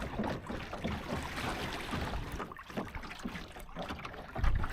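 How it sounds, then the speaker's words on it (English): Water sloshing and washing against a sailboat hull, a steady churning splash with occasional louder surges, close by with no talking. "look at this wave action coming in"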